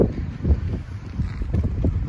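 Strong outdoor wind buffets the microphone at a car dealership lot on a very windy day, a loud continuous low rumble with gusting surges throughout.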